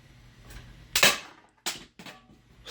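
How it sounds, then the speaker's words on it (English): A budget coilgun pistol fires at an old switch cover, giving sharp, loud snapping cracks: one strong shot, then several quicker, fainter clicks and snaps at close range. "I'm going to try shooting that old switch cover."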